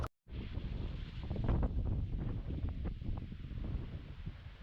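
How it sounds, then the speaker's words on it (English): Strong, gusting wind roars steadily across a microphone on the summit of Scafell Pike, a mountain reached by the Corridor Route, loud and continuous after a brief moment of near silence at the start. "You can hear the wind, obviously."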